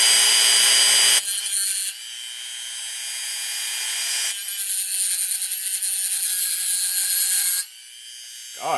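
A power tool set to about 1000 RPM cuts into a .223 bullet cartridge with a harsh, high whine that starts and stops in several loud, sustained passes, with brief pauses between.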